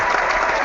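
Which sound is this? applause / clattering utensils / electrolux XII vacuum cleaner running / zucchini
applause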